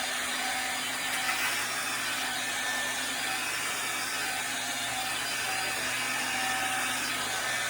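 Vacuum cleaner running indoors, going back and forth over the floor: a loud, steady whine and roar that holds constant throughout with no voices.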